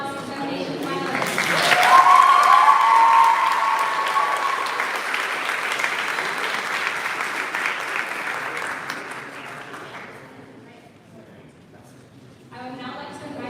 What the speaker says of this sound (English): Let's have another round of applause for your cross-examination finalists.